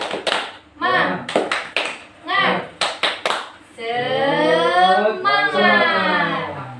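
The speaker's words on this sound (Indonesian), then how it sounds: "Gimana kalau kita tepuk semangat dulu Bu?" Tepuk semangat group clapping, bursts of sharp, rhythmic hand claps in short patterned clusters alternating with chanted voices, ending in a longer sustained vocal passage without claps.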